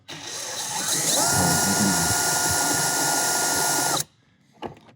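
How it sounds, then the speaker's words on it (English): A power drill in reverse on drill mode, turning an extractor bit on a bolt, whines loudly for about four seconds, its pitch rising as it spins up, then stops abruptly, followed by a brief clunk. "using the extractor bit, and you want to put it into your drill on drill mode, not screwdriver, and then reverse"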